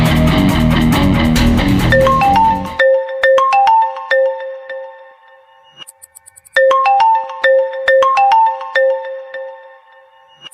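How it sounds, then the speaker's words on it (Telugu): A phone ringtone plays loudly in a Telugu TV serial scene: a bright, repeating electronic melody of short tones that pauses briefly and then starts again. A burst of dense music comes before it. "కాత్యాయని అమ్మగారికి ఫోన్ చేయడమే కరెక్ట్."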